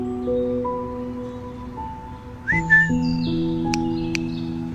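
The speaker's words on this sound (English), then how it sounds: "Leave the bird alone." A bird chirps once or twice, short and fairly close, over a steady musical background, with a few sharp clicks near the end.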